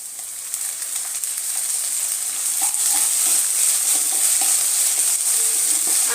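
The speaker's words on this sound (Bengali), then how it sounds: "আদা রসুনের পেস্টটা দিয়ে আমি আবার এই 2 মিনিটের মতো একটু ভাজাভাজি করে নেব" Onion and ginger-garlic paste fry in a pan with a bright, steady hiss that grows slightly louder, with soft stirring scrapes and small crackles throughout.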